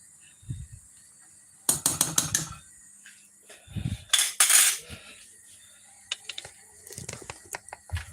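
Catfish pepper soup being stirred in a pot, with a few short bursts of metal spoon scraping and clinking against the pot, separated by quiet pauses and small taps; no talking.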